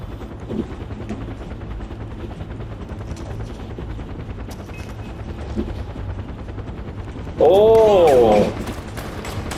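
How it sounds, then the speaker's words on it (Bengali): Far Cry 4 game combat: constant rattling gunfire and mechanical din throughout, with a loud whirring helicopter sweeping close toward the end. "Oh, there is another copter. There's another copter."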